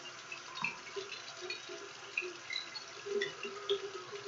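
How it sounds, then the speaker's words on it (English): A tap runs steadily and faintly while hands are washed under it, with soft splashes and irregular drips breaking up the flow. "I'm going to wash my palms"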